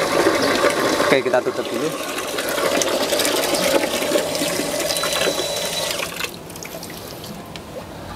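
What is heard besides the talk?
Shi water pump drawing water from two sources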